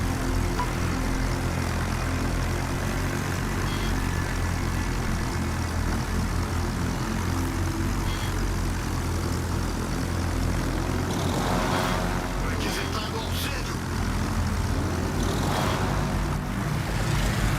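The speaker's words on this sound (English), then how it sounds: "Fighter airborne." A fighter aircraft taking off in a video game, its engine a steady, loud droning roar that holds throughout, with a swell of rising whine and rumble toward the end as it climbs away.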